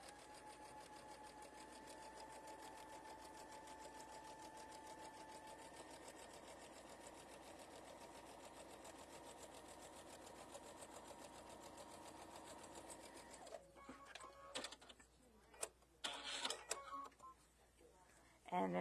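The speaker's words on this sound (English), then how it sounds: "I'm just going to sew straight down." A sewing machine stitching fabric for a pieced tulip wall hanging runs in a steady, fast whirring drone for most of the stretch, then stops, followed by handling noises and brief speech.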